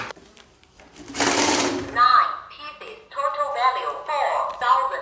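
A cash counting machine feeds a stack of mixed banknotes, starting with a harsh whirring burst followed by rapid, close mechanical flicking and buzzing. Someone talks during it.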